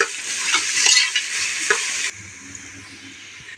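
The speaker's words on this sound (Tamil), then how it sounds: "வெங்காயம் நல்லா பொன்னிறமாக வதங்கி வரட்டும்" Onions fry until golden in a pan for a seeraga samba biryani. A loud, close sizzle is broken by brisk stirring scrapes in the first half, then eases to a quieter steady crackle.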